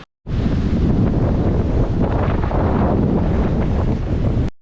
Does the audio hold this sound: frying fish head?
no